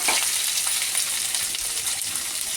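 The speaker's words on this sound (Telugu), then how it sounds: "ఫస్ట్ ఇది ఆనియన్స్ బ్రౌన్ కలర్లో ఫ్రై చేయాలి." Onions fry in mustard oil for a Mughal egg curry, giving a loud, continuous, hissing sizzle with faint crackles throughout. No voices are present.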